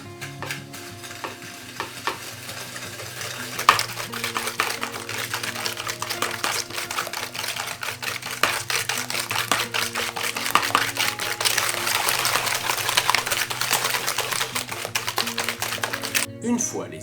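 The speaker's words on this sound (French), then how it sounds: "Et à l'aide d'un fouet, on vient mélanger une première fois." A whisk beats eggs and sugar in a bowl for a strawberry and whipped cream crêpe cake, a steady rapid scraping and clicking rhythm that continues throughout at close range, with faint background music.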